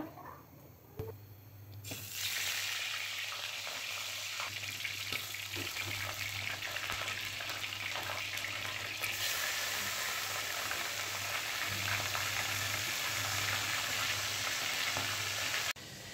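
Chunks of meat for a roast sizzle steadily in a hot pan, a loud continuous frying hiss after a quieter opening, with occasional stirring clatter and a low steady hum underneath; no one talks.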